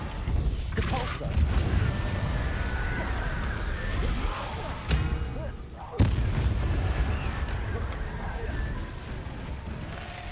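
Depulso spell cast in a Harry Potter video game: dense, continuous game noise with heavy booming impacts, a sharp burst around the middle, and talking layered throughout.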